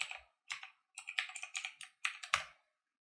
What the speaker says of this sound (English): Go ahead and put in your password up here.